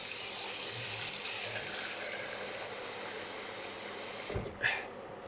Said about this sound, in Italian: Andiamo ad aggiungere un pochino di acqua